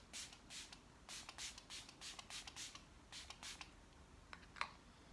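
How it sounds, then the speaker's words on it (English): A dozen or so quick, soft spritzes from a spray bottle in an irregular rhythm, quiet and close, with no talking. "I'm just going to take my setting spray and I'm just going to spritz my face."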